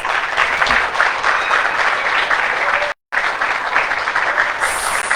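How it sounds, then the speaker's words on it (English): Audience applause for a graduating service dog class, a dense, steady wash of clapping from a crowd that carries on strongly and cuts out for a split second midway. "let's give our Class 6 graduates a big round of applause"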